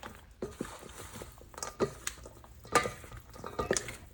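Bread stuffing ingredients being mixed in a mixing bowl, soft scraping, clicking and squelching stirs in an irregular rhythm, close but fairly quiet, no talking.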